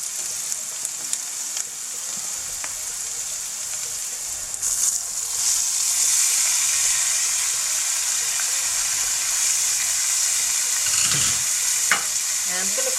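Potatoes frying with spices in a pan for a Bengali aloo bhaji, a steady close sizzle that swells a little louder partway through, with occasional stirring scrapes and no talking.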